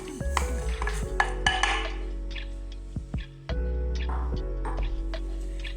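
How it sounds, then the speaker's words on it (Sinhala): Three cups of sugar are added to a metal pot on a gas stove for Bombay muscat, with sharp clanks and clinks of a utensil against the pot, brief rushing pours and scraping over a low steady hum. "භාජනයක් ලිපේ තියාගෙන ගෑස් එක දාලා අපි ඒකට අර ගත්ත සීනි කෝප්ප 3 එකතු කරගන්න ඕනේ"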